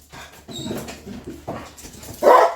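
Dogs whimper and yip as someone leaves on a side-by-side, several short high whines near the mic, then a louder cry at the end.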